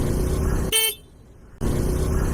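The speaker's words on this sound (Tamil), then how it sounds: "நான் தான் ஹார்ன் அடிச்சேங்க" A short, loud vehicle horn toot cuts over steady road and engine noise, then the traffic hum drops away briefly before returning.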